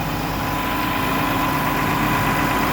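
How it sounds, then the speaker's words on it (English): An engine idles smoothly in a steady, continuous low rumble, loud and close, with no pauses or changes in pitch. "Engine's running good."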